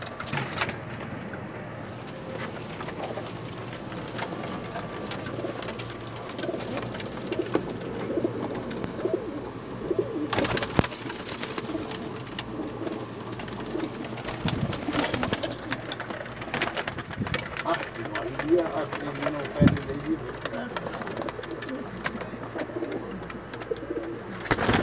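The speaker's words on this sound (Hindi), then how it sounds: "तमाम के तमाम ब्रीडर कबूतर हैं" Pakistani breeder pigeons coo steadily in the background over a busy, rustling ambience, with occasional scrapes and knocks; no voices.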